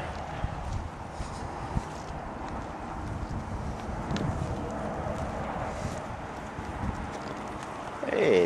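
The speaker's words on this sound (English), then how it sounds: "How you like my horse out there?" A horse walks outdoors, its hooves clip-clopping steadily and close by over wind noise, while people talk nearby.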